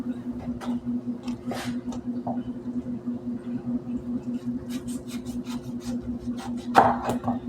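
Jackfruit being chopped into small cubes with a knife in a home kitchen, a run of light, close taps against a board over a steady background hum, ending in a slightly louder knock.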